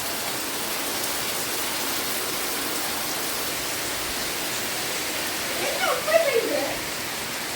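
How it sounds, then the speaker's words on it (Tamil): Steady, dense hiss of heavy rain pouring down continuously over a village in Vavuniya, Sri Lanka, with a brief faint voice-like sound rising near the end. "பயங்கரமாக மழை பெய்து"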